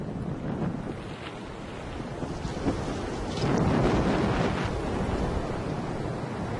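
Strong wind gusting up to 40 mph around a bald eagle nest, a loud continuous roaring rush of air buffeting the microphone, swelling stronger midway and holding steady, with no voices.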